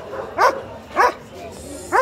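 Three sharp barks from a seven-and-a-half-month-old guard dog at a dog market in Egypt, spaced evenly apart, close and clear, with quiet background between them.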